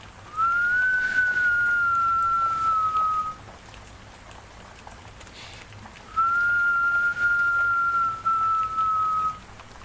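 A person whistles a gentle lullaby-style tune in two long, clear, slightly wavering notes with a pause between them, soft and close over a quiet background.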